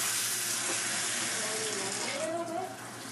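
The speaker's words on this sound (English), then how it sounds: "So we're gonna run on cold water." Cold water runs from a kitchen tap in a steady, hissing stream that continues throughout, close and fairly loud.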